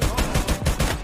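Rapid gunfire in the Free Fire battle-royale video game, several loud shots in quick succession with a steady rhythm, dense and close, heard alone without talking.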